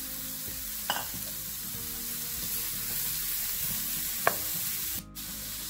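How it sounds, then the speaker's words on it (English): Finely chopped ginger sautéing on a medium flame in a pan, giving a steady, even sizzle with a couple of faint utensil clicks, heard close and alone without any voices. "Saute the ginger on a medium flame till it changes color."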